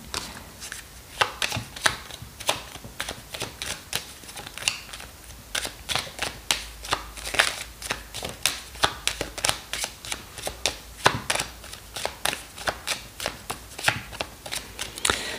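Tarot cards being handled and flipped on a table, a dense run of sharp, crisp snaps and slaps in quick uneven rhythm, close and fairly loud, with no talk over them.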